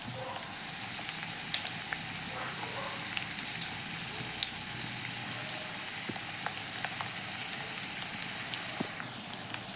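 Oil sizzles in a kadai, a steady, close hiss with faint crackling pops running evenly throughout without any talking.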